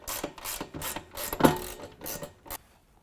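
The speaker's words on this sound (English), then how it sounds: "use a 13mm to tighten down the rocker panel bolt." Ratchet wrench with a 13mm socket tightening a rocker panel bolt while fitting steps on a GM double cab truck, a quick run of crisp clicking bursts with one louder metallic knock midway, close and without talk.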